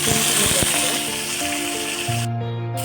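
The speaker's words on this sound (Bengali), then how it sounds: "এটা ভেজে নেব" Vegetables for Bengali shukto fry in hot oil, giving a loud, steady sizzle that fills the whole moment at close range.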